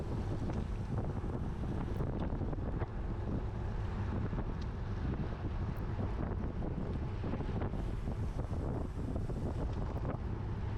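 Steady, heavy headwind roar buffeting the microphone of a cyclist in a road race, continuous and loud throughout with low rumbling gusts, no voices.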